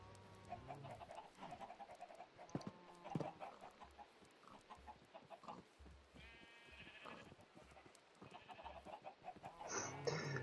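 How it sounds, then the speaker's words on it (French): Chickens cluck and squawk in a video game, several short bursts scattered across the scene with other animal bleats mixed in, fairly quiet and close. "Il y aura un petit poulet sauvage, hein."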